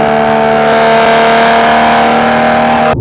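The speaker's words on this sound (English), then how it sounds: "I personally feel that the exhaust is too loud" A tuned, loud BMW M340i with a B58 engine, Stage 3 setup at about 600 hp, roars at close range with a steady, droning exhaust note held for about three seconds before cutting off abruptly.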